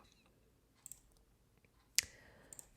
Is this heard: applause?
no